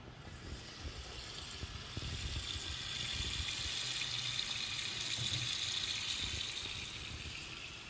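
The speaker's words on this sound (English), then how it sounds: "You're just going to fill it up with water." Water running from a tap fills workout pouches, a steady, faint hiss and splash that swells slightly midway and continues without pause, with no talking.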